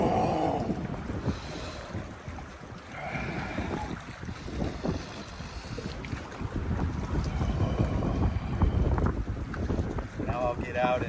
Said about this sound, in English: These waves rolling in really adds the dimension of cold